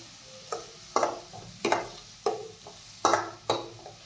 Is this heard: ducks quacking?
no